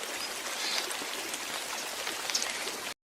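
Steady rain hisses and patters evenly for a forest ambience in a video game, then cuts off abruptly into silence.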